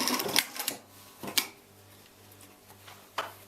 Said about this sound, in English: only stitch exactly where those seams are, where you joined the parts together